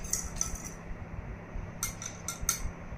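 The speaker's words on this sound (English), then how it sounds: "Now take a glass of dirty water and mix soil in it." A spoon clinks against a drinking glass while soil is stirred into water, several quick bright taps in two short bursts over a low steady background hum.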